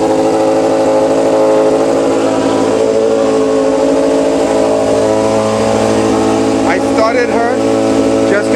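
A Honda CBR F2 motorcycle engine idling with a short muffler, a loud, steady, close rumble with a firm droning tone that holds throughout, with a little higher chatter near the end.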